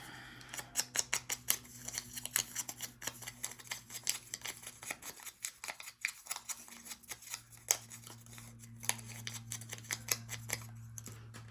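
Scissors snip through paper seed envelopes made from printables for junk journal ephemera, a quick run of crisp, close cuts repeating in an uneven rhythm with short pauses, alone and without speech.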